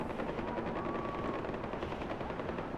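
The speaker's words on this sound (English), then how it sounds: "I hear a lot of gunfire." Rapid gunfire in the video game Far Cry 4 during an attack on Banapur, a dense continuous rattle of shots with a helicopter-like drone underneath, no talk.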